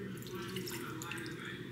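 Water pours and trickles in a kitchen, a soft continuous splashing with faint drips, fairly quiet and without talk.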